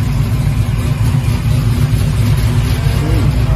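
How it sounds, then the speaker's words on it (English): Big Chevy donk on 34-inch rims with an LS V8 engine idling loud and close, a steady heavy rumble with a slight rev near the end and no talk over it. "LS engine. I think KLS engine. Listen to the sound."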